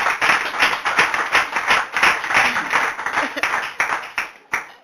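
A church congregation claps in praise, with dense, rapid, overlapping hand claps in a fast steady rhythm. The clapping is loud and close, then stops abruptly near the end.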